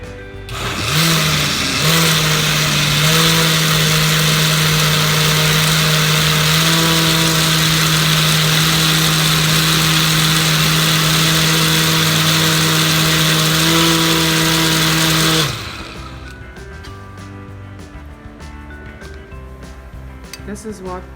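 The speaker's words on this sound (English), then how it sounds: "So we're gonna blend again, you won't be hearing me" A blender runs loud and steady for about fifteen seconds while grinding ingredients for a Trinidad and Tobago oil down with smoked turkey wings, then cuts off, leaving quiet kitchen sounds.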